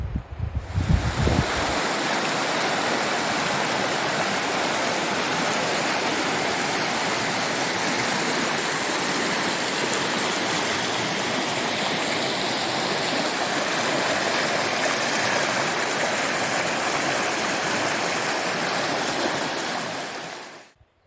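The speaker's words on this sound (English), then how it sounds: "Listen to the distant mighty roar of the river Kopsus" A steady, loud rushing roar of the river Kopsus fills the scene without a break, broad and constant like a river in full flow, fading out at the end.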